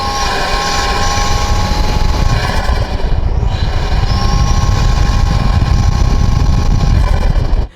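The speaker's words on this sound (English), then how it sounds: "it does make a beautiful noise if you are an avid enthusiast when it comes to turbocharged" The turbocharged engine of a 2026 Toyota 4Runner Trailhunter breathes loudly through its high-mounted intake. A steady, dense roar with a whining tone holds throughout and dips briefly partway through.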